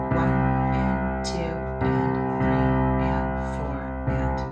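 Piano playing a steady rhythmic pattern with left-hand octave Cs low in the bass, sustained and full, with a few chord attacks across the passage.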